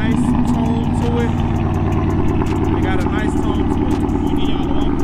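A 2023 Chrysler 300C SRT engine running at a steady idle, loud and close, with a deep rumbling tone and a voice speaking over it.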